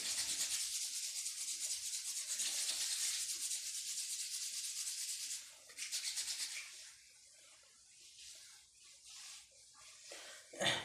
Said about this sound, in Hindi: अब दोनों हाथ को एक बार रब कर लेंगे